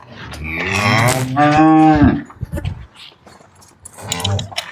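Heifers at a farm sale near Bhucho Khurd moo loudly and close by: two long, drawn-out calls back to back, then quieter shuffling, and a shorter moo near the end.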